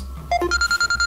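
A phone rings with a short, bright electronic tone sequence that rises then repeats in quick even pulses, close and loud, with no voices over it.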